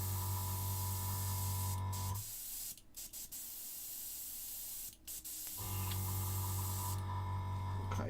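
An airbrush sprays contrast paint in a steady hiss that cuts out for about three seconds with a few brief sputters, then resumes, suggesting a gunked, uneven spray.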